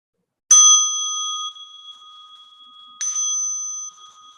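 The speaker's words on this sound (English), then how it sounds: "As you listen to the bell" A bell rung for a mindfulness meditation session: two clear, sustained metallic strikes about two and a half seconds apart, each ringing on with a long, slowly fading tone in an otherwise silent room.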